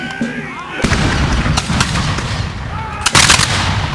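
A volley of musket fire at a Battle of Trenton reenactment: several loud, sharp cracks of black-powder guns fired close by, with a heavier massed burst near the end and a continuous crowd murmur underneath.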